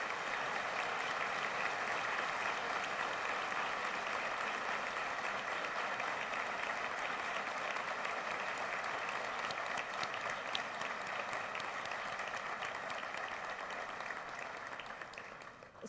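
An audience at a solemn session marking the University of Costa Rica's 75th anniversary applauds students for academic excellence, a loud, sustained round of clapping that holds steady before tapering slightly at the end.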